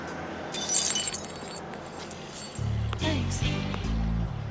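Glass shatters in a scene from a 1980s teen drama film: a bright crash and scattering tinkle, followed by a low musical score swelling in.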